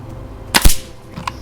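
An FX Wildcat MK2 airgun fires a single sharp, close shot at a 20 m target, followed a moment later by a faint distant tick of the pellet striking.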